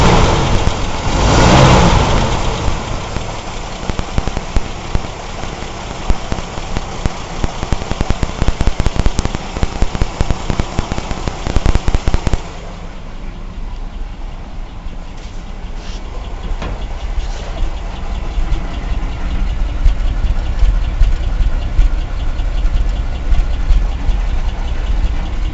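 A car engine idles roughly and unevenly, a steady close rumble with sharp knocking bursts early on, then a quieter, smoother running stretch.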